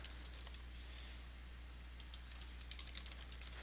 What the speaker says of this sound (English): So we'll type in index.